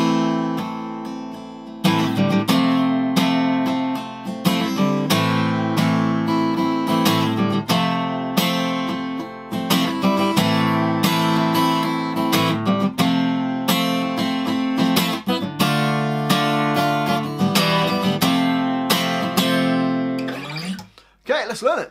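Guitar playing a song: steady strummed chords ringing out clearly and loudly for about twenty seconds, with short breaks between phrases and no voice.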